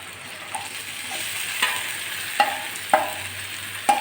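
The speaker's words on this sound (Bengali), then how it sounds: "পেঁয়াজগুলো আমি লাল করে ভেজে নিয়েছি এবার আমি গ্রেভিটা দিয়ে দিচ্ছি" Onions browned red in a pan as gravy goes in for mixed vorta, a gentle continuous sizzle broken by several sharp utensil taps and scrapes against the pan, no talking.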